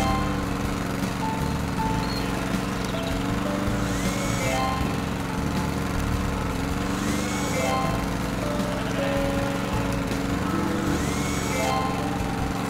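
Welding in the Gleisbau-Simulator 2014 track-building game, heard as a steady droning machine hum with rising whine sweeps repeating every few seconds.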